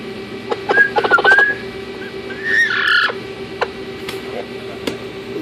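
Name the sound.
Amazon parrot whistling in nesting box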